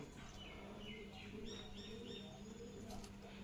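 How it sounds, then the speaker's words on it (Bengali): Birds waiting for food near street dogs being fed rice with milk chirp and coo faintly from a distance, thin repeated calls over a low ambient hum. "ওই যে ওখানে পাখিগুলো অপেক্ষা করতেছে"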